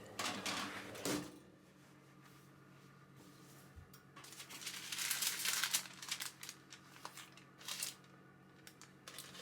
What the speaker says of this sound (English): my oven is a little small for my clay pot, so I use foil instead of lid